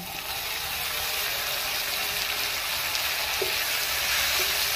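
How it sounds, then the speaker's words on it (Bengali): Ginger garlic paste hits onions already fried to a deep red in a hot pan, producing a steady, close, dense sizzle that runs unbroken throughout with no voices. "পেঁয়াজটা লাল লাল ভেজে নিয়েছি, আদা রসুনের পেস্টটা দিয়ে দিচ্ছি"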